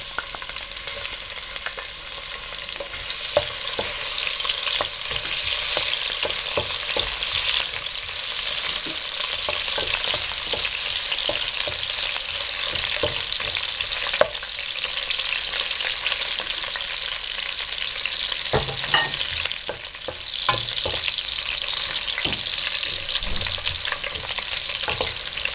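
Onions and bay leaves fry in about half a cup of hot cooking oil in a pot for a kadhi pakora, a loud continuous sizzle and crackle with occasional stirring scrapes and no talking.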